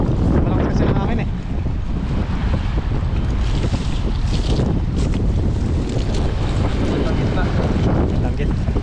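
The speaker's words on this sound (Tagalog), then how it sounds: "Malakas kasi ng hangin eh." Strong wind roars across a boat at sea, a dense, steady rushing blast that buffets the microphone throughout, with water and hull noise blended beneath.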